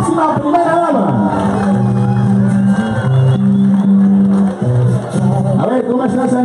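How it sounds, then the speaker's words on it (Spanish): A crowd at a political rally in San Andrés cheers and whoops for the future first lady, a continuous roar of many voices heard beneath a loud amplified announcer who talks throughout. "un fuerte aplauso también a quien será nuestra próxima primera dama"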